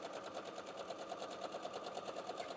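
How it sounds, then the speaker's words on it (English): A sewing machine stitching quilt pieces a quarter inch from a marked line, running steadily with a fast, even needle rhythm, fairly quiet and alone. "take it back to the sewing machine, and I'm going to sew 1/4 of an inch from that line."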